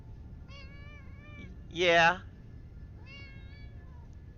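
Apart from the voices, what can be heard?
pet cat meowing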